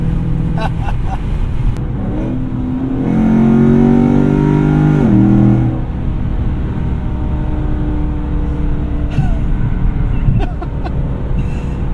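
A Chevy SS engine with American Racing long tube headers and X pipe revs loudly, rising and falling in a rough, throaty roar over a steady idle.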